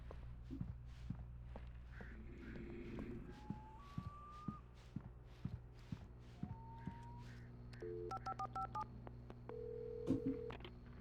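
A series of short electronic keypad tones from a phone dialed inside a gas station in the video game Alan Wake Remastered, several quick beeps around eight seconds, amid soft footsteps and steady low background hum.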